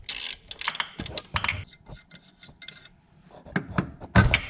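The top portion of a Toyota MR2 SW20 engine mount being worked loose, heard as close, uneven scraping, rubbing and metallic knocks in short bursts, ending with a louder clunk, with no talking.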